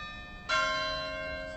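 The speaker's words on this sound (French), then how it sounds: "La cloche." A church bell in a Valais village strikes once, sharp and clear, then hums and rings on in a long, slowly fading tone with nothing else heard.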